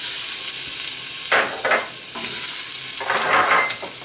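Garlic and ginger hitting about two ounces of hot chili oil over medium heat, a loud dense sizzle with bursts of sharper crackling and stirring swells, close up and wordless.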